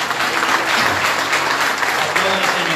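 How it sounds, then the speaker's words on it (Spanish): A church congregation claps loudly and continuously in a dense burst of applause, with voices mixed in. "Aplauda a Jesús."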